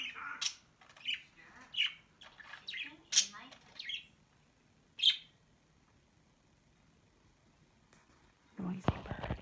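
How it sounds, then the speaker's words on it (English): Noisy wild birds outdoors in December give sharp chirps and squawks in irregular bursts, some close and loud, then fall quiet before a short burst of rustling noise at the end. "Noisy birds."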